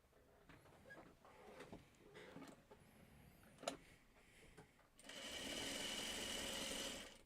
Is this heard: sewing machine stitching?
yes